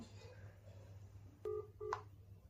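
A phone number is dialed on a mobile, two short electronic keypad tones beeping close and clear in a quiet room.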